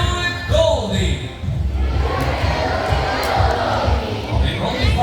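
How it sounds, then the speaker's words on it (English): An audience at a bird show at Cebu Safari cheers and shouts in a few bursts, with a presenter talking over the crowd noise. "If it's a yes, let me hear you cheer."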